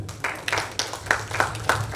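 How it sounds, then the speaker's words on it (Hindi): Audience clapping for social worker Mushtaq Naqvi at the Imperia Awards 2021 ceremony, a scattered, moderately dense patter of hand claps that swells in repeated bursts over a low hum. "मुश्ताक नकवा साहब के लिए आप सब तालियां बजाएं"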